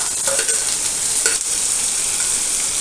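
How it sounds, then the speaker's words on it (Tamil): Tomatoes and curry leaves sauté in a pan, giving a loud, continuous bright sizzle with faint stirring knocks near the start; no voices. "தக்காளி போட்டுக்கலாம் கருவேப்பிலும் போட்டுக்கலாம்"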